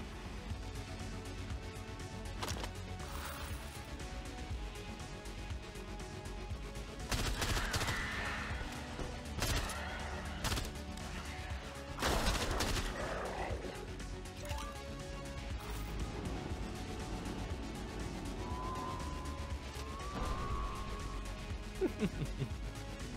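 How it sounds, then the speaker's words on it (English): Gunfire and explosions from the first-person shooter STRAFE, with bursts of shots and a few heavy blasts standing out over a busy, steady game soundscape, no speech. "The explosions seem a little flaccid, let's be honest."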